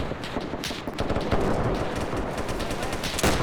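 Sustained, dense machine gun fire from a World War II-style battle game set in Ethiopia, ANZAC forces against Italians, rattling loudly and continuously with overlapping bursts and distant gunfire throughout.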